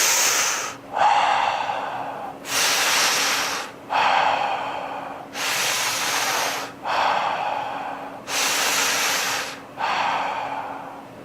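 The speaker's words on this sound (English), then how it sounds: "So breathing in and out of the mouth." Connected breathing in and out through the mouth in a guided breathwork demonstration: slow, loud, airy inhales and exhales alternate in a steady cycle, about seven breaths, close and alone with no talk.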